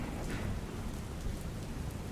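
Steady, dense heavy rain pours down in Jamnagar district, Gujarat, during the first rain of the season, a continuous broadband hiss, close and unbroken for the whole short stretch.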